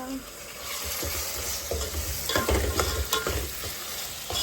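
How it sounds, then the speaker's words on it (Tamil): Tomatoes frying in a pan for fish curry (meen kulambu) while being stirred and mixed in: a steady close sizzle broken by scraping spoon strokes, loud and continuous, with no talk. "அதே மாதிரி தக்காளி போட்டு கொஞ்சம் மிக்ஸ் பண்ணணும்"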